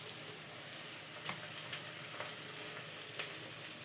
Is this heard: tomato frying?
yes